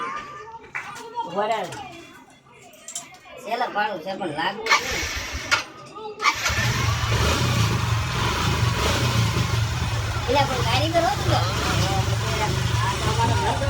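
A car engine in a village garage roars to life midway and keeps running with a rough, rattling drone, while children and adults talk loudly before and over it.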